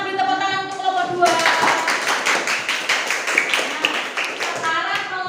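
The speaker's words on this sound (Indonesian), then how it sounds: "Kita beri tepuk tangan untuk kelompok 2." A classroom group of student teachers bursts into brisk hand clapping after a voice, a lively close burst of applause lasting several seconds before speech resumes.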